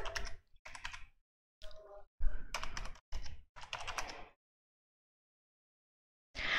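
A password being typed on a computer keyboard, heard as several short bursts of close, clattering keystrokes separated by brief pauses, with a long silence before one final burst.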